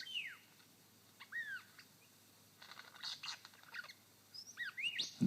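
A lyrebird in a Victorian forest mimics a crimson rosella, giving short bright whistled notes and upslurred calls in a few separated bursts, clear and fairly close against a quiet background.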